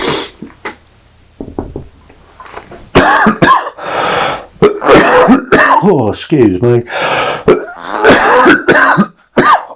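A few sharp coughs ring out near and loud from a man at his easel while painting, followed by his speech.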